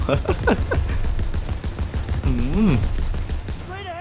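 Gunfire in the World War II shooter Call of Duty WW2, rapid bursts of shots close and loud over busy game noise, with a voice speaking over part of it.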